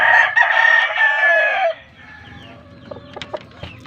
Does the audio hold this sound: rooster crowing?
yes